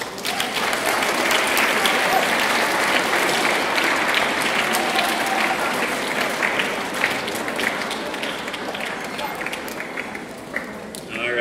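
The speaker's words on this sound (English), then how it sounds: "Round of applause for these guys." Steady applause from an audience at a school awards ceremony, dense clapping that stays even and loud before slowly tapering, with voices faintly beneath.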